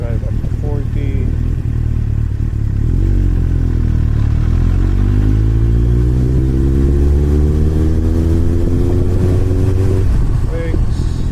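A Yamaha XJR1300 cafe racer motorcycle accelerates up through the gears with a loud, close engine note, rising revs sweeping upward, then easing off near the end.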